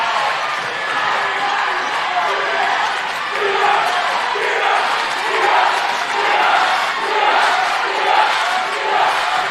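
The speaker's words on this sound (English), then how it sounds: "The crowd tells a better story than I can at the moment." The home crowd at a Portage boys basketball game cheers in a sustained roar that swells and surges, filling the gym, with sneaker squeaks and bouncing mixed in beneath.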